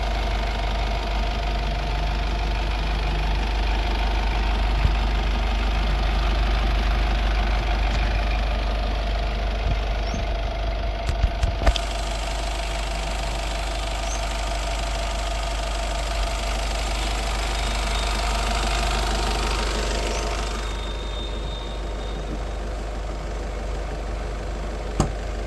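A 2019/20 Honda Jazz VX diesel engine idles steadily, a continuous close mechanical hum with a faint knocking clatter and no speech throughout.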